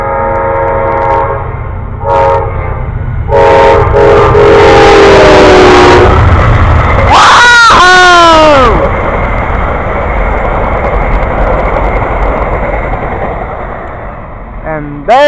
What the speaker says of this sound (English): Amtrak train to Silver Star with Heritage Unit 145 on it